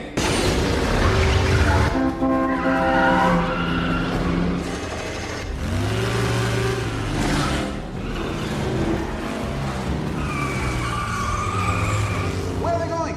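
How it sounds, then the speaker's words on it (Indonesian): A race car boosted by nitrous in a Fast and Furious 8 street-race scene produces loud, continuous engine roar with tire squeals and skidding, while a narrator talks over it throughout. "Untuk mengejarnya, Dom mengaktifkan nosnya."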